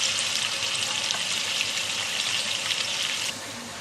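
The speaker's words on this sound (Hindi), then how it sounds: "अभी चिकन को अच्छे से आधा कुक होने तक भुनेंगे" Boneless chicken pieces frying in oil over high gas heat, a dense, even hiss of sizzling that holds steady and then drops slightly near the end.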